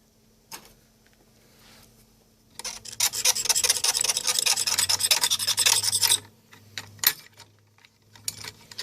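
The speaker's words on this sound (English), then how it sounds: "I'm just essentially scraping away all the old garbage" Scraping old, hardened amber petroleum grease off a vintage Sony PS-5520 turntable: a loud, dense stretch of rasping scrapes lasting a few seconds, with quieter scattered scratches and clicks before and after, no talking.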